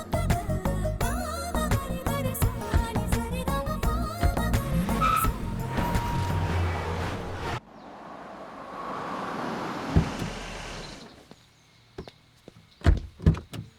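Audi Q5 car in a dramatic scene: busy music and engine sound give way to a broad skidding rush, then sharp door-like thuds and knocks close by near the end.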